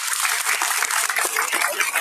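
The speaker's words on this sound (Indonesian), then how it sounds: "Tepuk tangan dulu boleh." An audience at an Islamic sermon in Cikampek claps briefly. The clapping is fairly close, dense and irregular, with scattered voices mixed in.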